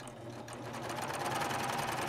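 A serger stitching a cover stitch hem on fabric runs steadily and continuously at close range, a dense mechanical whir with no talk over it.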